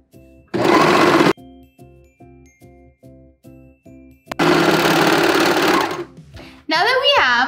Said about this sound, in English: let's serge all three edges together